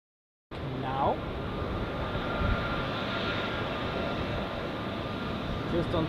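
An Edelweiss Airbus A320 takes off at Zurich airport, a broad, steady jet engine roar holding loud and constant throughout, with a faint voice underneath.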